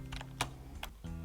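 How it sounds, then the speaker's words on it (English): A few quiet keystrokes tap on a computer keyboard, faint and close, spaced out over a steady low electrical hum. "So I'm going to type that in."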